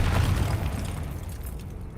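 A loud magical explosion from the Confringo spell in Hogwarts Legacy, a heavy booming blast that rumbles and slowly fades over two seconds, with no talking.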